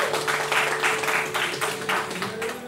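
An audience at a mixed-team pistol shooting bronze medal match in Bydgoszcz applauds with steady, moderately loud clapping that carries on for the whole stretch beneath a faint tonal hum.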